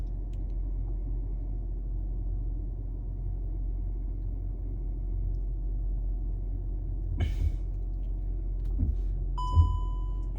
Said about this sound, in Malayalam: പാർക്കിംഗ് ബ്രേക്ക് റിലീസ് ചെയ്ത് മുന്നോട്ടെടുത്ത് നോക്കാം